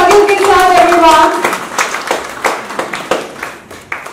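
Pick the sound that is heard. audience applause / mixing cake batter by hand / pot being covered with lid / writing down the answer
audience applause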